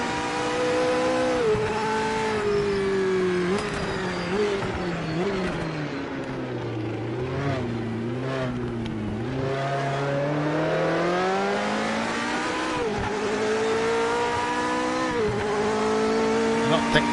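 A Toyota Supra GT500 race car engine roars in a racing video game, loud and continuous, revving up and down through gear changes with a brief dip in pitch midway. Someone talks over the engine.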